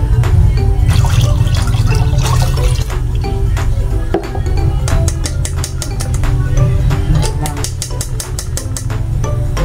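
Coconut milk poured from a pouch into a cooking pot for sticky rice makes a continuous liquid splashing and gurgling, with bursts of sharp clicking toward the end.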